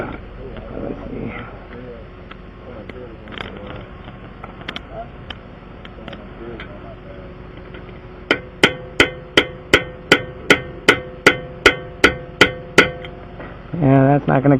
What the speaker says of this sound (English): I'm gonna try finding something that I could bang on it so I can strip it out.